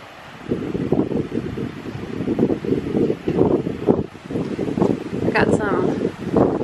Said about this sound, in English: Day turned out to be like super windy.